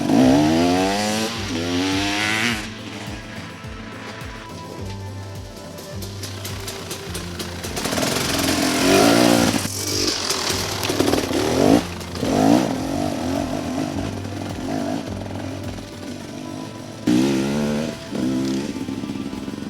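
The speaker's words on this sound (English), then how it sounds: "Take my bike, a 2016 KTM 300 EXC." A 2016 KTM 300 EXC two-stroke enduro dirt bike revs hard and close, with buzzing rises and drops in pitch, sharp throttle blips and a ragged ringing exhaust that surges repeatedly over about twenty seconds.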